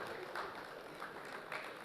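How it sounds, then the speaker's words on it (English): Faint applause from members attending the Poultry Federation of India's annual general meeting, a steady patter of clapping at a distance with a few slightly louder bursts. "A big round of applause for IPMA, organizers of Poultry India exhibition"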